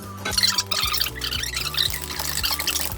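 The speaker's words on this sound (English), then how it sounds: "So you need to pour that into there." Wet ingredients for doughnut dough are poured into a bowl with splashy, gurgling liquid sounds and a few clinks, close up over a low background hum.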